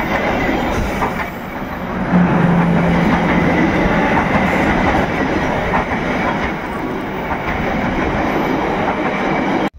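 The Serayu passenger train rumbles past close by, a loud continuous roar of wheels and carriages with a brief horn-like tone early on.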